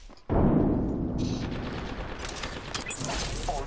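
Rapid automatic gunfire in the Apex Legends video game erupts suddenly and holds as a dense, loud, continuous burst of shots, with mechanical clatter layered on top.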